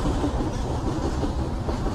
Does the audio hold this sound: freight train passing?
yes